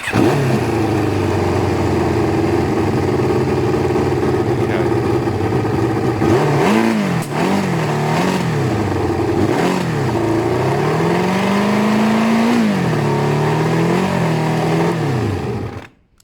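Kawasaki ZL600 motorcycle engine running loud and close throughout, its note rising and falling through several revs of the throttle before cutting off abruptly at the end; the carburettors are in poor condition and need a rebuild.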